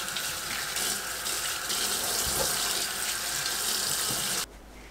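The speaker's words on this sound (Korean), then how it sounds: "물에 가볍게 헹굽니다" Tap water runs steadily into a sink while eggplant is lightly rinsed, a close, continuous splashing flow that cuts off abruptly near the end, with no voices.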